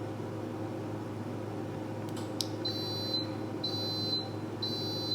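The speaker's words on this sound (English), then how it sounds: "The coffee is beeping at me." Coffee maker sounding a series of high electronic beeps, three short bursts spaced about a second apart over a steady low room hum, fairly quiet and indoors.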